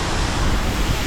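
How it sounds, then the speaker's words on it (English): Seljalandsfoss waterfall in Iceland pours as a loud, steady broadband roar close by, with constant wind and spray noise and no speech. "I just want the waterfall to drop on me."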